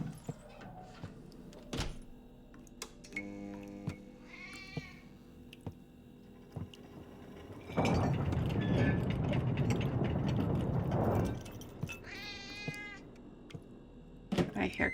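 A cat meows several times, drawn-out rising and falling cries spread across the clip, mixed with thuds, door-like knocks and a loud burst of broadband noise midway.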